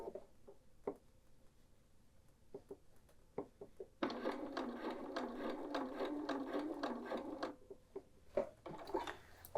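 A sewing machine stitches a patch pocket onto a quilted jacket, starting with a few soft clicks before running steadily for several seconds, close by, then stopping among light handling taps.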